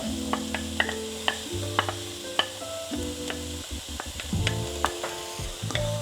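Onion, garlic and celery frying in olive oil in a saucepan give a steady sizzle, broken by repeated scraping stirs and clinks of a utensil against the pan, close up, with no voices.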